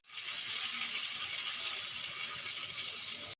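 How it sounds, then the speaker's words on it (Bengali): Water poured into a pan of thin Bengali katla fish curry made with fennel paste, a steady hissing splash that runs continuously for about three seconds, close and fairly loud, then stops abruptly. "এবার এর মধ্যে আমি দিয়ে দেবো পরিমাণ মতন জল"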